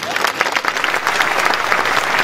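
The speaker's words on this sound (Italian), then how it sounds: "e lo vorrei col vostro applauso, Luca Callegaro." Loud, energetic applause from a crowd, dense clapping that keeps going without a break.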